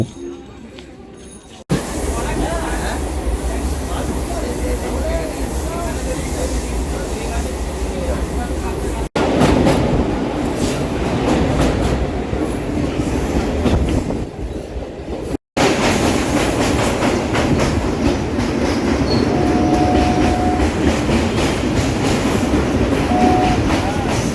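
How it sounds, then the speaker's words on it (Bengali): A suburban commuter train runs out of Kolkata past Bally, Dakshineswar and Baranagar toward Dum Dum Junction, its wheels clattering steadily over the rails with a continuous loud rumble, cut by two brief breaks. "ট্রেন এক এক করে বালি দক্ষিণেশ্বর বরানগর হয়ে এগিয়ে চলল"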